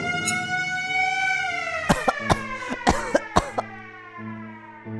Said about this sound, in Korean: 건물 전체가 고통으로 호소하는 것 마냥 사이렌이 크게 울려 퍼졌어